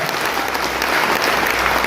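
A seminar audience in Khagaria, Bihar applauds in a dense, steady burst of clapping that fills the whole moment, with no voices over it.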